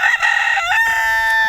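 A White Leghorn rooster crows loudly and close by, one long drawn-out call with a rising then sustained tone.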